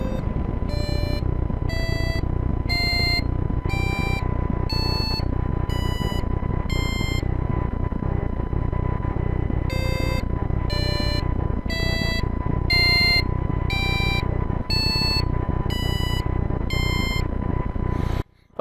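A passive buzzer driven by an Arduino beeps out a tune of short electronic tones in two runs with a pause between, over a steady low hum.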